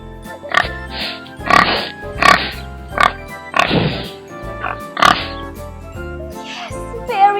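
A pig oinks and grunts in a farm-animal lesson for kindergarten, about seven short, snorting bursts spaced roughly a second apart over light backing music with a tinkling tone.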